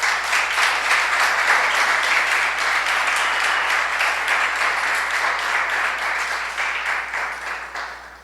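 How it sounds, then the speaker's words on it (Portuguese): Loud, full applause from a congregation at a church gathering, many hands clapping in a thick continuous roar for about eight seconds before tapering off. "Aplauda Jesus."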